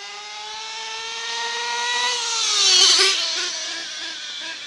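A Losi 8ight-T RC truck drives along a street, its motor whining in a rising and falling tone that swells to a peak near the middle and then eases off, heard at moderate distance with no talking.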